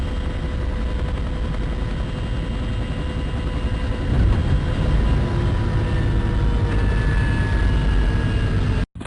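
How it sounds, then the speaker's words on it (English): A helicopter flies in the Spycraft: The Great Game video game, giving a loud, continuous rotor and engine roar. It holds steady throughout, then cuts off abruptly at the very end. "That's how you pilot a helicopter."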